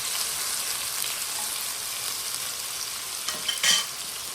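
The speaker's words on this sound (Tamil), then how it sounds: "இப்போ வெங்காயம் கொஞ்சம் கோல்டன் கலரில் ஃப்ரை பண்ணி" Onions frying in oil in a pan for a fish curry, giving a steady close hiss with a few brief stirring scrapes near the end and no voices.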